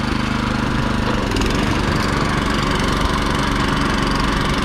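A rear tine tiller churns through garden soil in a strawberry row, its engine roaring continuously and loudly at close range with a steady, gritty drone and no pauses.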